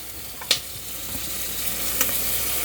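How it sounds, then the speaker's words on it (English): Butter sizzles in a hot pan, a steady close frying hiss broken by a couple of soft clicks and pan knocks, with no talking. "I'm just going to throw in just another little pat of butter"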